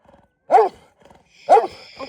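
A dog near a large sheep flock gives two loud, close barks about a second apart, each a single gruff bark with faint sounds between.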